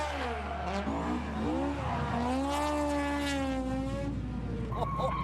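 Rally cars drifting around the tight, twisty drift circuit at The Bend during the Adelaide Motorsport Festival, with sweeping engine notes rising and falling as they rev, plus tyre squeal, fairly close and loud with no talk.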